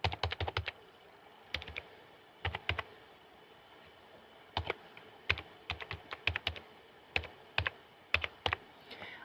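Someone types a name on a computer keyboard, crisp close key clicks arriving in quick irregular bursts with short gaps between, alone and fairly quiet.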